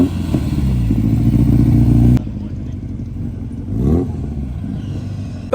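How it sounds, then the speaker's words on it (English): Two turbocharged Nissan Skyline R32s revving as they pull out of the Port Solent car meet: a loud, close engine roar that cuts off abruptly, then a quieter rumble and another rising rev pass. "Both the R32s are now leaving."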